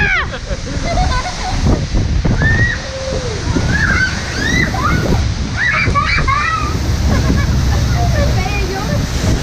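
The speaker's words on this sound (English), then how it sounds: "just from the waterfall splashing into the water" Waterfall spray splashing into the sea on a Milford Sound cruise in New Zealand, a steady close rush of falling water and sloshing with wind noise, while people talk and call out over it.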